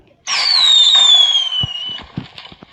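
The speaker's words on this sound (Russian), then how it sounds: "Последний фейерверк." A single firework in Minecraft Pocket Edition launches with a loud rising whistle that drifts slightly downward, then ends in a burst of sharp crackling pops.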